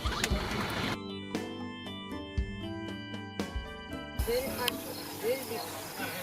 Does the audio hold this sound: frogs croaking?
yes